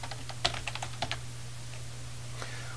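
Bursts of keystrokes on a computer keyboard as a search term is typed into a terminal manual page, close clicks in the first half, then mostly quiet hum.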